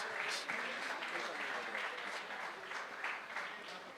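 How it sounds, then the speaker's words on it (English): Audience applause for a team at a Chaturmasya gathering in Gujarathi hall, a fairly quiet, steady wash of many hands clapping throughout, with no one speaking over it. "I would urge you to clap because they have all worked endlessly"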